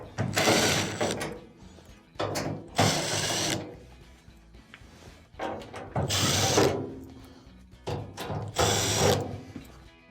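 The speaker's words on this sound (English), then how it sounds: "Now, you'll have to remove these Phillips screws on the front." Phillips screws being backed out of the front panel of an LG dryer, bursts of whirring, ratcheting driver noise separated by short pauses, close and moderately loud, with no talk.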